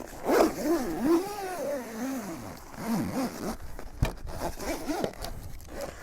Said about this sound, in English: And from there we just zip it up.